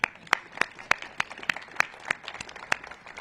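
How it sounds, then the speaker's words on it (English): Sparse applause from a small audience at a DC Housing Authority ribbon cutting with Mayor Bowser, a few scattered sharp claps standing out over a soft, thin patter that fades in and out. "I think that deserves another round of applause."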